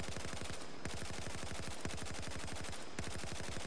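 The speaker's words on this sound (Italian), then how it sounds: "Se io ad esempio sparo soltanto 5 colpi" Rapid automatic gunfire from a rifle in the video game Battlefield 4, a dense continuous stream of loud shots with two brief pauses between bursts, no talking.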